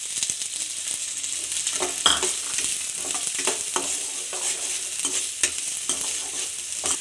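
Steady sizzling of onions frying in hot oil, with occasional scrapes and light clinks of stirring breaking through the continuous hiss.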